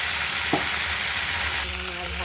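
Fish frying in a pan until crisp, a loud continuous close sizzle with steady hiss throughout and one brief clink near the start, no one speaking.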